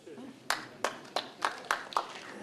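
Audience members at a DXN motivational speech in the UAE clap their hands together in a run of six sharp, evenly spaced claps. The claps sound close and crisp against a quiet room.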